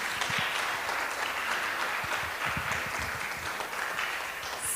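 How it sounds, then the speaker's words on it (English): An audience at a Gita contest applauds a group of participants, producing a steady, moderately loud patter of many hands clapping throughout, with no talk over it. "So can we have a big round of applause for Group 3?"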